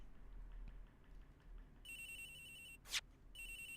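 A telephone rings in a detective video game, a trilling electronic ring that begins partway through, pauses around a brief sharp burst, then resumes, steady and fairly close over a quiet low hum.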